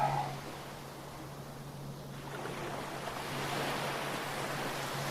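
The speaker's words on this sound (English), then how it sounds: "I'm just gonna scrub." Someone scrubs an item clean with a brush and plenty of water: a steady, continuous rasping wash that grows denser partway through, over a low steady hum, with no voices.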